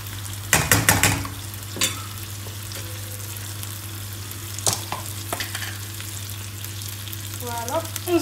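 A flour and milk sauce is stirred in a hot pan, a faint steady sizzle with a few scraping stirs and utensil knocks against the pan.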